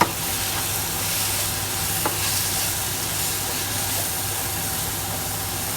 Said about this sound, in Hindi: इसको फिर से 1 से 2 मिनट के लिए भूनेंगे